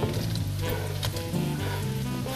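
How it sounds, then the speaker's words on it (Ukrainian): Cabbage hits a pan of frying carrots, setting off a steady, loud sizzle with faint stirring scrapes throughout and no voices. "Тепер цю капусту ми додаємо також до моркви."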